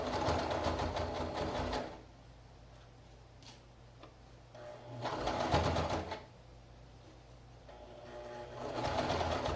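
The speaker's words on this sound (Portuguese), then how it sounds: "costura as pences e a gente vai fazer um reforço nas pences, a gente vai costurar 2 vezes" Sewing machine stitching darts twice for reinforcement: three short bursts of quick mechanical whirring separated by quiet pauses, fairly faint and close, with a small click in between.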